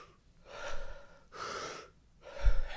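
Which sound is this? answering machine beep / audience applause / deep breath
deep breath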